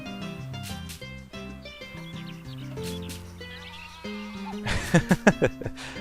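Sheep bleating in the farming video game Harvest Moon: A Wonderful Life, a few quick wavering bleats near the end over steady game background music.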